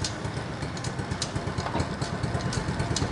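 Custom Honda Monkey motorcycle built from a Honda Kharisma, its engine idling in neutral close by with a steady low pulsing throb and a faint rattly buzz throughout.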